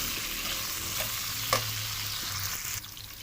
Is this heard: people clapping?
no